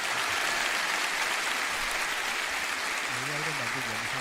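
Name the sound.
congregation applause in church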